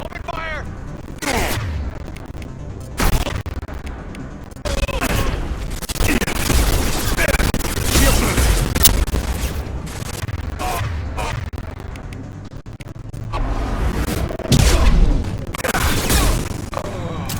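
Heavy gunfire in a combat battle from the Mass Effect video game, dense overlapping bursts and booming shots rolling on loudly throughout, mixed with voices and battle noise.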